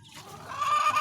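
Pet chickens cluck briefly and close by, a short rising burst of fowl calls, alone without talk.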